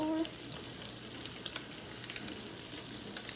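Fish fillets sizzle and fry steadily in a pan for fish tacos, a continuous close crackling hiss with faint clicks, heard alone without any talking.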